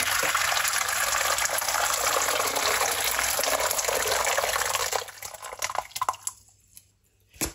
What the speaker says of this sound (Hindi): अब इसके अंदर गर्म पानी